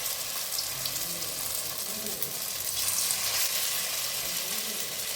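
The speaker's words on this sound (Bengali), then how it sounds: "তেলটা বেশ গরম হয়ে গেছে। এবার আমি এখান থেকে ছোট ছোট করে মুড়ির পকোড়া বানাবার জন্য এখানে দিয়ে দিচ্ছি।" Small puffed rice (muri) pakoras drop into very hot oil and fry with a close, continuous crackling sizzle that stays even and busy throughout.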